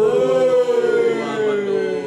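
A vehicle siren wails continuously and loudly close by, its rising and falling tone holding steady with no speech, the kind of siren misused on Indonesian roads by vehicles that are not ambulances.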